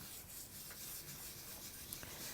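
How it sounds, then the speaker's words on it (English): Ink is rubbed onto the back of a card by hand, making a faint continuous scuffing friction with a few light taps toward the end. "we'll just rub it into the back like this"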